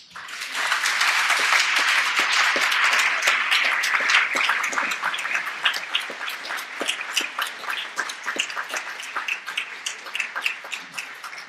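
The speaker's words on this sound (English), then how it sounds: "That was a pretty warm round of applause, wasn't it?" Warm applause welcoming a new acting director for a city program, loud and full at first, then thinning into scattered individual claps that gradually fade.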